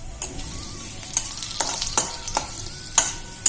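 Two torn bay leaves and two dried red chillies sizzle softly in hot oil over a low gas flame as a spoon stirs them, giving a steady fry broken by several sharp scraping clinks against the pan.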